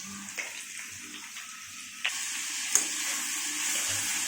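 Onions, green chilies and chopped vegetables fry in a pan with a soft, steady sizzle, broken by a few faint clicks and taps of a utensil.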